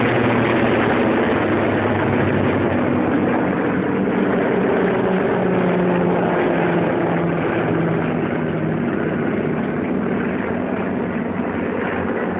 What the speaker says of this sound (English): American transport planes loaded with supplies follow us as we advance.